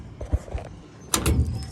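A storage shelf slides out from the rear compartment of a 2000 C3500 utility truck, giving a short scrape and a solid metallic clunk up close, with faint knocks just before.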